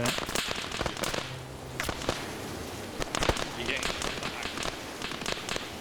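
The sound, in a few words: gunfire in the video game Arma 3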